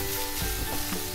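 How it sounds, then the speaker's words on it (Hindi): Onions frying in a pan while being stirred for a potato curry, with a loud, close sizzle broken by quick scraping strokes of the spoon. "जब तक प्याज भूनते हैं, तब तक हम इसको हिलाएंगे।"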